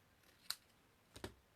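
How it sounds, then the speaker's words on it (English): Two quick, crisp snips of scissors cutting through ribbon for a card, close and quiet, separated by a short pause. "I tend to cut the two ends of my ribbon so the angles are the same"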